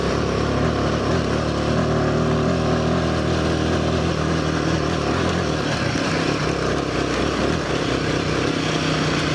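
A Royal Enfield Himalayan 450 motorcycle rides over rough terrain near Tukino Ski Field, its engine droning loudly and steadily alongside heavy wind buffeting, close and constant with no talking.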